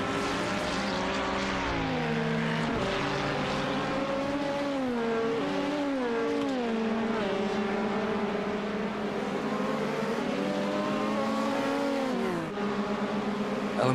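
Race cars in a Le Mans endurance racing video game, a continuous loud engine drone with rising and falling pitch sweeps as cars accelerate and shift, steady throughout with no speech.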